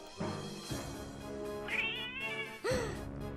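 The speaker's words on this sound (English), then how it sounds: "Unexpectedly, he throws a cat in my face!" A cat meows in the video game Demonheart: a drawn-out, wavering meow rises near the middle, and a shorter, sharper cry follows near the end. Both sit over a steady musical background, with no talk.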